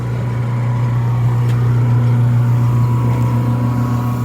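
A rebuilt Kelly Duplex 500 lb mixer with a brand-new 110-volt motor runs with a steady, loud mechanical hum. One faint knock sounds partway through.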